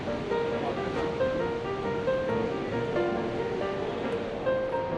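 A waterfall roars as a constant, dense wash of water heard from tunnels behind the falls, loud and unbroken throughout with no voices.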